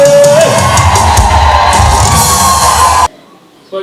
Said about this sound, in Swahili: Makofi na shangwe.